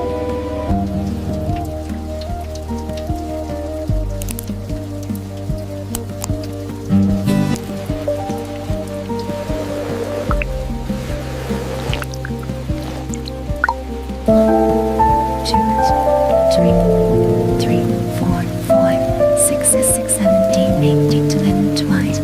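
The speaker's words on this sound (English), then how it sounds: "The rain is getting heavy." Heavy rain falls steadily on a surface during a first rainy day in winter, with continuous patter under soft music throughout.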